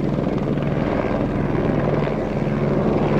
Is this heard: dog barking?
no